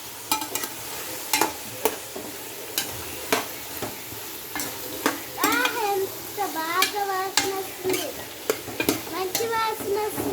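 Noodles and mixed vegetables sizzle in a hot pan while a utensil stirs and scrapes in irregular strokes, close and steady, with a voice chattering faintly in the background partway through.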